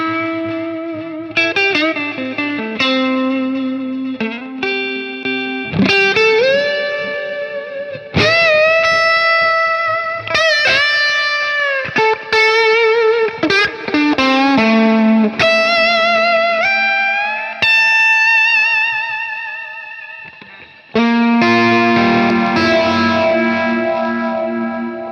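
Electric guitar on a clean setting played through a Hotone Ampero Stage II pedalboard with delay, ringing chords and single notes trailing repeating echoes, loud and continuous with brief gaps between phrases.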